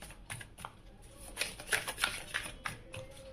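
Tarot cards are shuffled by hand close to the microphone in a quiet room, giving a series of soft, crisp riffling flicks that grow busier midway.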